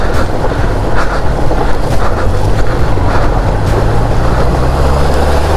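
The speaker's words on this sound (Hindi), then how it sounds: "तो नदी से पार कर रहे हैं हम बाइक।" A motorbike fords a river in the Zanskar valley on the Shinkula pass road, with a loud, continuous rush and churn of water and heavy wind buffeting close to the microphone throughout.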